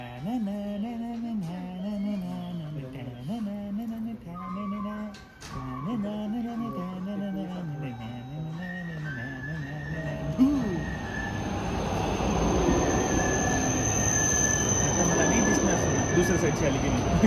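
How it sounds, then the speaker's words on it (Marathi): A bullet train arriving at a platform in Akita in winter Japan, a rising rush of wind and wheel noise that swells loudly in the second half after people talk over a quiet platform. "आता आपल्या प्लॅटफॉर्मवरची बुलेट ट्रेन येते."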